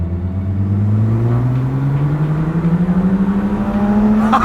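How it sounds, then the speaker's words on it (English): BMW 1M with a Litchfield Stage 1 tune and full Akrapovic exhaust accelerating hard in a drag race, its engine note climbing steadily in pitch as it pulls through a gear, loud and close with no talk. "Litchfield Stage 1 tune on my 1M with an Akrapovic exhaust all the way through"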